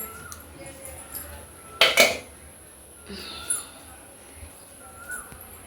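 A metal lid clanks down onto a cooking pot in a bright, brief double clatter, close by, followed by a few faint clinks against a quiet room background.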